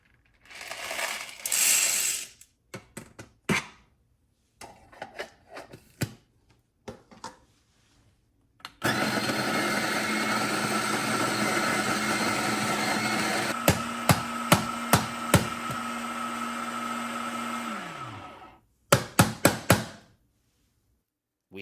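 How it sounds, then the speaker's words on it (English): Medium roast coffee beans whirring through an electric coffee grinder in a kitchen, a steady loud grinding run of several seconds with clatter of beans, preceded and followed by brief handling knocks. "we'll go ahead and use our grinder to make our grinds for both our K cup"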